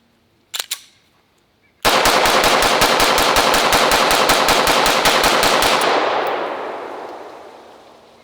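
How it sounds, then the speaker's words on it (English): Rapid mag dump from a PSA Dagger Compact Glock-clone pistol with a 21-round magazine: a couple of isolated shots, then a fast, loud, even string of about twenty gunshots that stops abruptly with a long echoing tail. "let's go grab another magazine and see how this Dagger holds up. How about a 21 round mag dump?"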